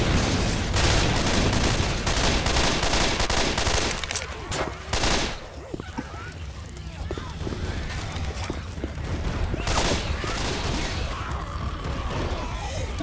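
Constant automatic gunfire in a zombie shooter game, loud and dense at first, then thinning into scattered shots and another heavy burst. Players shout and talk over the shooting.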